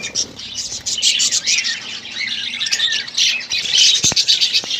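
Budgerigars in a breeding colony chirp and squawk continuously, a dense close chorus of high bright calls with no break.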